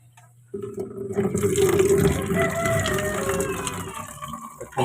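Water poured into a container while mixing starter feed for piglets, a continuous splashing fill that starts abruptly, swells to a full gurgle, then tapers off near the end, close and without talk.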